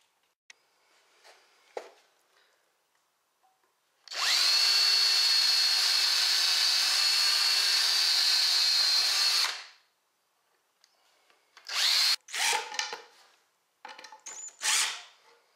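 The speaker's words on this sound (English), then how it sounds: "then we'll go ahead and drive our 3-inch screws in" A power drill drives 3-inch screws into a wooden bed frame, one loud, steady whine of about five seconds, followed by shorter knocks and handling noises near the end.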